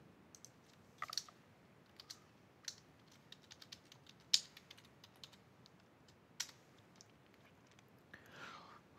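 Sparse, irregular keystrokes on a computer keyboard while login credentials are typed: soft, close clicks with short pauses between them over a quiet room, and no talking.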